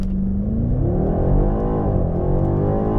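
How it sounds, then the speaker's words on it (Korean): A 2022 BMW X5 M Competition SUV makes a launch run, its engine roaring loud and close as revs climb steadily and hold through the upshifts. "발진 가속 성능 한번 보겠습니다."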